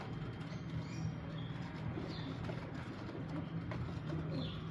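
Soft, low cooing from a golden pigeon repeats against a faint background hum, with no talking.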